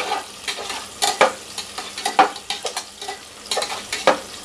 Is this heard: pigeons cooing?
no